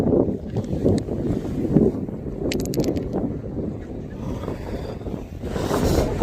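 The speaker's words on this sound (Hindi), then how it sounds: "इस तरफ ये नदी की तेज धार बह रही है। यहाँ पे पानी बहुत ठंडा है यहाँ का और तेज हवा भी चल रही है।" Strong wind buffets the microphone beside a fast-flowing, cold river in Nepal, making a loud, steady broadband roar with gusty surges and no talking.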